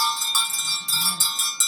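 An antique, 150-year-old sleigh bell shaken close by in several quick bursts of bright, shimmering jingling, with the ringing tail lingering between shakes and a faint voice underneath.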